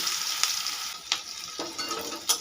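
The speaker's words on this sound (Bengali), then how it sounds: "পেঁয়াজটাকে আমি হালকা করে ভেজে নেব আগে।" Chopped onions frying in hot ghee and oil for Kashmiri aloo dum, a steady hissing sizzle with a few sharper crackles and stirring scrapes, close and moderately loud with no talking.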